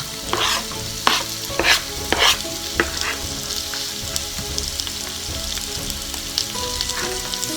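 Onions frying in a pan with red pepper flakes, a strong close sizzle punctuated by a few sharp scraping stirs early on, then settling into a steady crackling fry, no voices.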